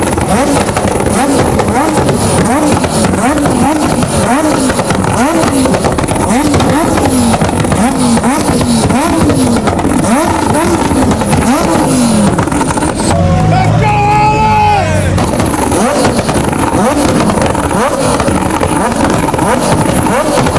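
A McLaren Senna GTR rolls along a Los Angeles street at midnight, its engine a loud, pulsing drone that fills the whole stretch. People talk amid the roar, and a brief shift in tone comes partway through.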